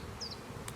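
Honeybees buzz faintly and briefly around full beehives in an apiary. Short high whines pass near the listener over a soft outdoor hum.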